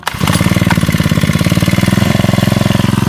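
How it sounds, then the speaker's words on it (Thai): A small two-stroke brush cutter engine sputters to life and settles into a fast, steady, rattling idle, loud and close. "สตาร์ทลองดูครับ"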